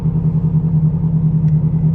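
Ferrari 430 Scuderia Novitec Rosso tuned to 777 hp, its engine giving a deep, steady low rumble close by as the car pulls out, with no talk over it.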